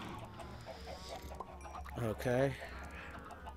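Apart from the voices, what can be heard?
Minecraft chickens clucking, from a video game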